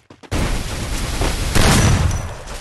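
Loud, dense gunfire in a shooting video game rolls on without a break, swelling partway through, with no talk over it.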